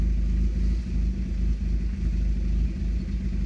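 A 2000 Nissan Sentra engine with idle problems runs at a low, steady idle, a close, continuous rumble with slight uneven pulsing and no talk.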